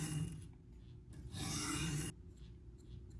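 An 8CR steel pocket knife drawn across a 300 grit sharpening stone, a soft gritty rasp in a few separate strokes, one longer and louder pass in the middle, close and quiet with no talk.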